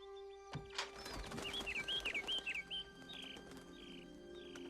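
Small birds in the palace garden scene of the Aladdin film, a run of quick high chirps and tweets over quiet background, faint and close, with no talk.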